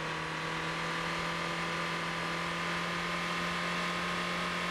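Car engine in the driving game Motor Town holding a loud, constant high-revving drone, steady and close throughout with no talk over it.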